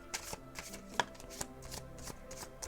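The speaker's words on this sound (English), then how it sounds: "let's pull you some tarot cards" Tarot cards shuffled and pulled from the deck, giving soft papery slaps and taps at an irregular pace, close by and moderately loud, with a faint musical bed underneath.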